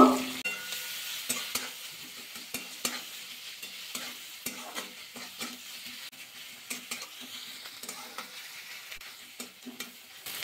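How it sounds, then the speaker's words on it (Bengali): Onion fries lightly in oil left from earlier frying, for vegetable rice, with a soft continuous sizzle under repeated scraping strokes of a spatula stirring in the pan, close and moderately quiet. "পেঁয়াজটা হালকা ভাজা করে নেব।"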